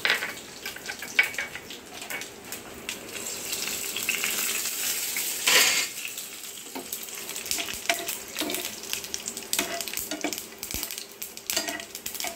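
Black mustard seeds and dried chillies fry in hot oil for an oat breakfast tarka, giving a steady close crackle and sizzle with occasional clinks of a utensil against the pan and no voices.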